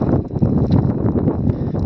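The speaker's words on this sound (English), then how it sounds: "It's windy down here." Wind buffets the microphone in a Death Valley desert near a small mine, a loud, continuous low rumble with gusty thumps and crackles.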